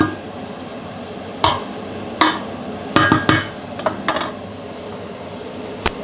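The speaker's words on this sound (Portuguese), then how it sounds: "vamos deixar agora fritar aqui um pouco a cebola" Onion fries in a pan with a soft background sizzle, broken by several sharp utensil scrapes and taps against the pan as it is stirred.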